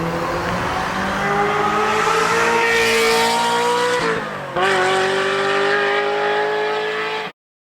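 A Ferrari sports car engine roars and revs loudly, pitch climbing, dipping briefly, then surging again before cutting off abruptly.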